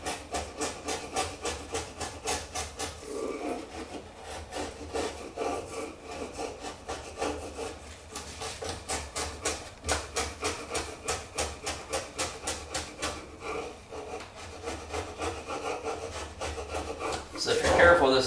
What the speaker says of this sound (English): you're only looking to cut the fiberglass layers